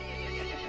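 A horse in the video game Resident Evil Village lets out a short, loud, close whinny, rich and strained, heard alone.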